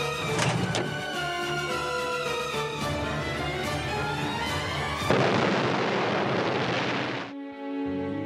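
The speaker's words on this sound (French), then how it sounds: "The explosion entirely blew out the building" A bomb blast blowing out a building during a wartime assassination attempt on Hitler: loud, sustained rumbling roar with crackling bursts, holding steady for about seven seconds before cutting off abruptly.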